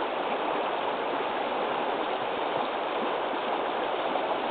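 A rain-swollen mountain brook after four days of rain rushes loudly and steadily, a dense, continuous close roar of churning water with no pauses.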